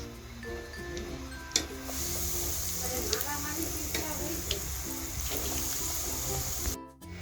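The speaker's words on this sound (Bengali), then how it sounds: "তো এভাবে আমি বাকি যে চপগুলো রয়েছে এগুলোকে আমি ভেজে নেব।" Prawn chops for Bengali chingri macher chop deep-fry in hot oil with a steady, close sizzle and bubbling hiss, broken by a few sharp clicks and pops, before the sound drops away at the end.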